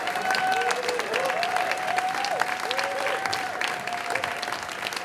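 Steady applause from a live storytelling audience, a continuous wash of many hands clapping with a thin electronic tone running underneath.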